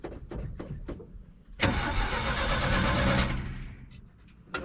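A 1968 GMC truck engine cranks in a few short bursts, then catches and roars for a couple of seconds before settling, heard close and fairly loud.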